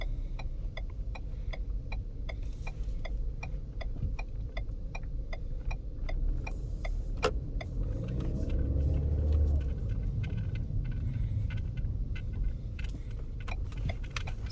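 A 2016 Ford Fusion drives along a city street, its engine and tyre rumble steady and close throughout, with a rhythmic ticking like a turn signal clicking over the first half.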